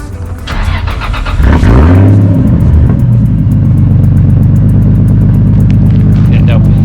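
A Toyota Supra MK4 with a 2JZ engine cranks and fires up, rising into a loud, close rev before settling into a steady, rumbling idle, with people talking quietly in the background.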